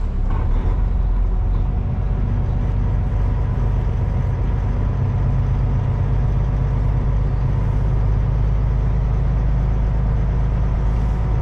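A 2023 Kenworth W900L truck with newly installed front-axle air ride drives along, its engine a loud, steady low rumble throughout with no speech.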